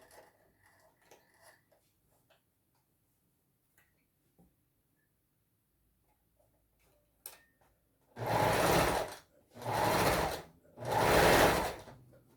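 A sewing machine stitches in three loud bursts of about a second each, separated by short pauses, while sewing a Christmas panettone holder and backstitching to lock the thread; quiet handling noises come before.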